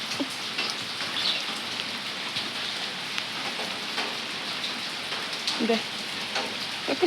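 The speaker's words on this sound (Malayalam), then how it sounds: "ചാറ്റൽ മഴയാണ്" Light drizzling rain falls steadily outdoors in a yard, a soft continuous patter of drops on surfaces with a few faint clicks and rustles, and no voices.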